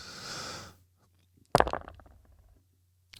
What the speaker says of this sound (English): It sounds like a cross between gravel and fart.